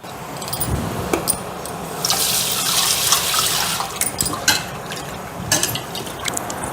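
Tap water runs steadily into a sink, splashing and trickling, with occasional small clinks and rattles of lentils being rinsed and swished by hand.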